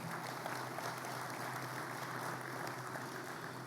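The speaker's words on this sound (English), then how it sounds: "give them a round of applause" Steady applause from a dinner audience at a lifetime achievement awards event, a faint, even patter of clapping throughout with no voices.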